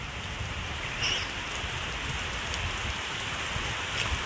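Steady heavy rain pours down in a dense, continuous hiss, with occasional louder drips and splashes nearby.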